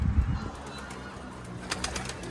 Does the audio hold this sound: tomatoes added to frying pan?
no